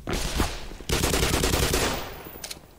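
Rapid automatic gunfire in Black Mesa, a loud burst followed by a longer sustained volley of rattling shots that fades out, leaving a few scattered pops at the end.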